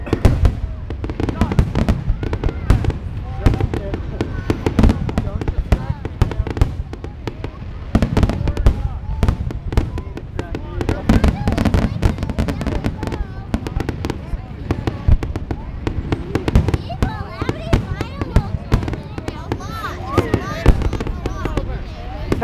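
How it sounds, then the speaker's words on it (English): A fireworks display in Rumson, New Jersey, on July 3, 2010, sounds as a dense, continuous barrage of loud bangs and crackles. Voices carry faintly beneath the blasts. "Caught them shooting fireworks."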